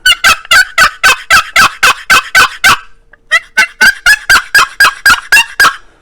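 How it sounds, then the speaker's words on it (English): A two-sided red cedar box turkey call is played, giving loud, close, rhythmic yelps in two runs of about ten strokes each, separated by a short pause. No one speaks over it. "So we got a cedar call out there."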